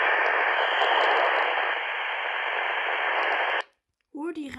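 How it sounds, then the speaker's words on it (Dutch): Steady hiss of static from a walkie-talkie runs loud and unbroken for several seconds, then cuts off abruptly, followed by a brief burst of a voice. "Hoor die ruis dan. Dat is niet normaal."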